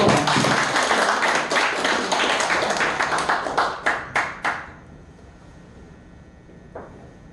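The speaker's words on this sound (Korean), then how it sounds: "박수 소리가 너무 작아" An audience at a Korean poetry recitation claps loudly, the dense applause thinning into a few separate claps before fading to near silence, with one faint clap near the end.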